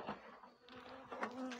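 Honey bees buzz around an open hive during spring feeding with a protein patty, a close, continuous droning hum that swells and fades.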